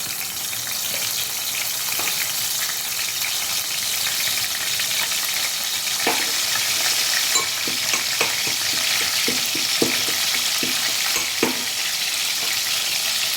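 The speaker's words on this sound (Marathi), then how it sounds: "हे दोन पळी तेल आपण टोपामध्ये घातलेलं आहे त्याच्यामध्ये आपण हिरवं वाटण घालून घेऊया" Green masala paste sizzles and spits steadily in hot oil in a cooking pot, a continuous close frying hiss with occasional sharper crackles and stirring scrapes, no voices.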